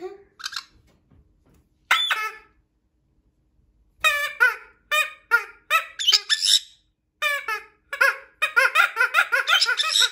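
A caique parrot gives bursts of high, squeaky, giggle-like calls, near and loud, in irregular clusters separated by brief pauses and growing more rapid toward the end.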